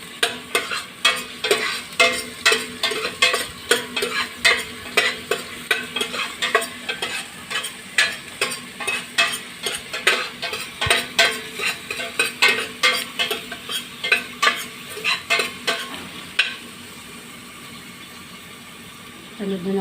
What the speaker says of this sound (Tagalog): pagka nagsisigang ng baboy, ginigisa ko muna